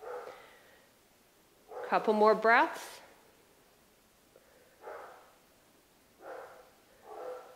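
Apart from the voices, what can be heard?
dogs barking in the backyard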